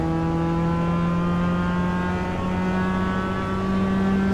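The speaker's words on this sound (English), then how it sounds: "The stock car racing is really awesome in this game." A steady, high-pitched stock car engine from a racing video game drones continuously at a constant pitch, loud and close, with no breaks or voices.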